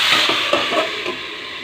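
Tomatoes tipped into onion and garlic frying in oil, giving a steady broad sizzle with a few soft stirring scrapes and clinks, close and continuous, no talking.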